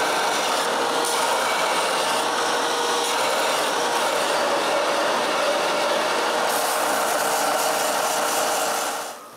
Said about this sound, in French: Je commence par couper ce qui ne fait pas partie de la poignée.